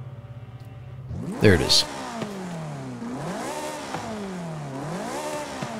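A Ferrari F430 Scuderia engine in Forza Horizon 5, loud, rising and falling through repeated revving sweeps as it accelerates and shifts, with someone talking briefly over it.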